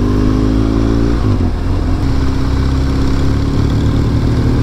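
A motorcycle engine runs steadily while being ridden through hot desert during a journey across Algeria, a loud continuous drone with a shift in pitch partway through, alone with no voices.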